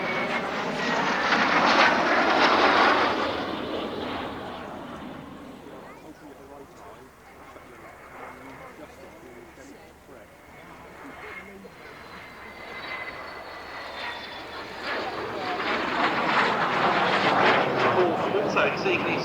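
Gloster Meteor jets at an autumn air display at Duxford, a loud roaring pass that fades to a distant rumble and then swells again, with a commentator talking over the engine noise.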